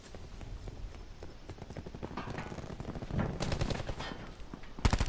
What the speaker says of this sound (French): Donc là c'est encore un fusil d'assaut.